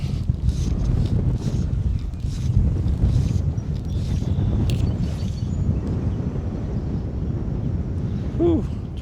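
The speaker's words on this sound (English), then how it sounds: "It is really windy right here. Wind's swinging around." Strong wind buffets the microphone in a steady, loud roar, with gusts rising and falling throughout, at a fishing spot by the water.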